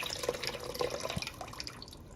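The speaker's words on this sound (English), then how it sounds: "Pouring in the chicken stock, got that nice pouring action going on." Chicken stock pours into a pot of Cajun gumbo, a close, steady trickling and splashing of liquid with small dripping plops, no talking.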